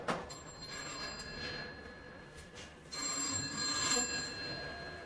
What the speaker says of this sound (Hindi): आपका फोन तो ठीक हो गया, लेकिन इस वक्त आपको कौन फोन कर सकता है?